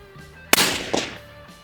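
A single sharp rifle shot from a sloped firing position in a precision shooting drill, loud and close, followed by a fading echo and a faint second report.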